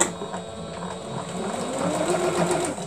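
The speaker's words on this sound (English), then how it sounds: "I got my sewing machine fixed up here. Now, what I'm doing is I'm folding this over and I'm sewing this little spot down." Serger sewing machine stitching a folded seam on a shirt, a close, steady rapid whirring chatter that runs without a break.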